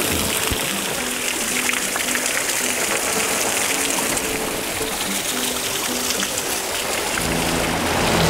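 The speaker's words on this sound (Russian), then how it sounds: "Ну, как вам этот водопадик?" A continuous broadband rush of falling water from a small waterfall at Sosnovka beach in Gelendzhik, close and steady, like a small cascade splashing, with a faint low tone beneath.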